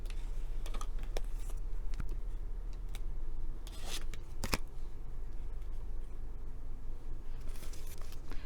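Tarot cards being shuffled and slid around, a steady dry papery rustle with a few crisp flicks and brief louder riffles, close and alone.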